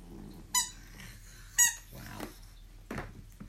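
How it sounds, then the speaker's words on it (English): A dog's squeaky toy gives two sharp, high, close squeaks about a second apart, followed by softer snuffling and rustling in a quiet indoor room. "Now you got a squeaky toy?"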